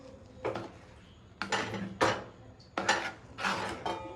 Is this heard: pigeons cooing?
no